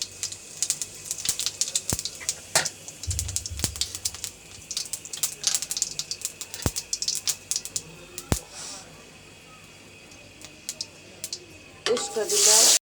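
Cumin seeds dropped into hot oil crackle and spit in sharp scattered pops, with a brief stir partway through and a louder burst at the end.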